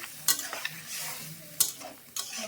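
Fish and tomatoes cook in a pan, with a soft continuous sizzle and several sharp scraping stirs of a spatula against the pan, close by and fairly quiet.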